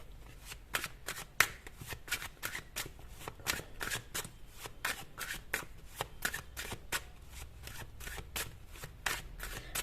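Tarot cards shuffled and drawn for a monthly horoscope reading, a steady run of crisp riffling flicks and soft slaps, close and fairly quiet, with no talking.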